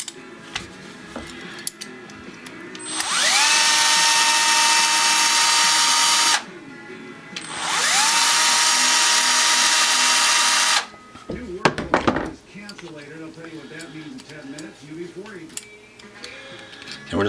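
A power drill drives screws into custom scales on an Emerson Commander knife handle, in two loud steady whirring bursts of about three seconds each, with quieter workshop clicks and handling noises around them.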